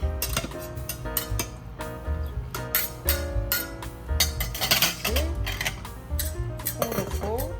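A utensil stirs meat sauce in a metal pot, producing busy clinks and scrapes against the pot in an irregular rhythm, close and fairly loud.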